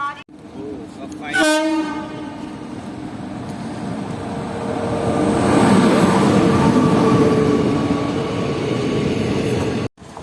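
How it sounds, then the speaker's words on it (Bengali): A Lalgola–Sealdah local train pulls into a station platform, with a loud horn blast near the start followed by a sustained rumble and screech of wheels and carriages rolling in close by. "ফাইনালি আমাদের ট্রেন ঢুকে গেল"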